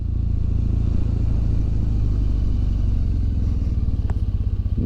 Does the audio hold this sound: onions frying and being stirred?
no